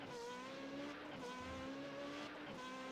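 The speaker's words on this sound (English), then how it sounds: "Hard braking here at the hairpin." Race cars in the iRacing Formula 3.5 sim braking hard into the Montreal hairpin, steady whining engine tones sliding down in pitch with faint tire scrub, continuous and fairly loud with no talk.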